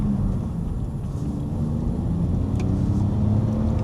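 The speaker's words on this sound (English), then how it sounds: "I'll over rev this engine in front of the cop too." An old BMW car engine held at high revs, a loud, continuous droning roar that stays close and steady throughout with no talking over it.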